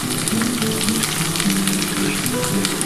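Ridge gourd, potato and onion fry in ghee in a pan, crackling in a continuous close sizzle with soft stirring.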